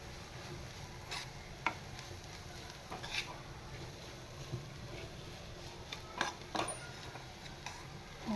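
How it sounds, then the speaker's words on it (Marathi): Sesame seeds, gram flour and radish leaves being stirred in a pan, a soft steady sizzle with scraping and rubbing strokes of a spatula, quiet and close, with no talking. "आपण छान हे परतवून घेऊया."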